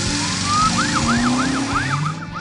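An animated police patrol car's siren wails in a children's cartoon, a rising tone followed by rapid repeated up-down sweeps, loud and close over a low rumble.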